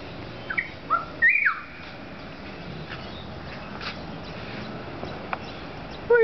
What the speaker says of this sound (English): Such good birds.